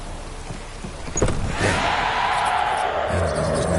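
Rain in the video game The Witcher 3 Wild Hunt begins about a second in as a broad, steady hiss and continues evenly to the end, with a faint sharp tap just before it starts.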